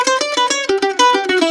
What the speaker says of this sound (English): I can always tell when guitar players play mandolin because it sounds like this.